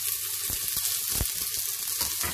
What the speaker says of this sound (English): You need to stir this onion only till it becomes soft.